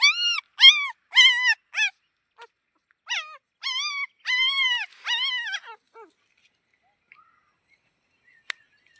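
A puppy whimpers close by in a series of high, thin whining cries, several in a row and then tapering off into silence with a single faint click near the end.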